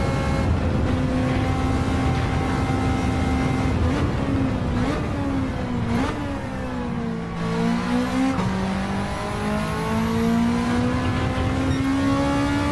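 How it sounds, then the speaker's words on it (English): A race car in Gran Turismo 7, a light 800-kilogram shell with about 260 horsepower, revs hard through the gears, its loud engine note climbing and dipping with shifts and some tire squeal. "But you have to rev it. If you don't rev it, no power."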